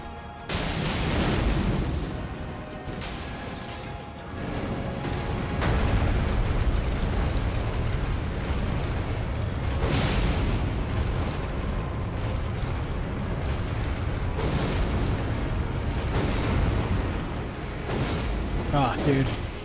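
In Elden Ring, a fire attack erupts in a series of loud, rumbling blasts and roars, repeated booms swelling and fading over a dense game soundscape, with someone talking over it.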